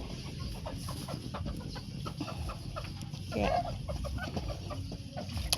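Bantam chickens cluck softly inside a wire dog cage, a steady mix of short clucks over farmyard background noise, with one brief louder call near the end and a single spoken word.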